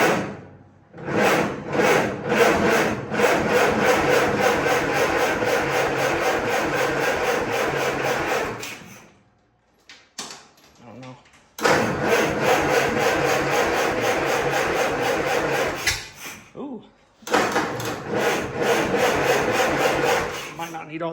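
The old engine of a 1956 Air Tractor cranks over in long grinding bursts, loud and close, stopping twice for short pauses before cranking again, with no sign of it catching and running.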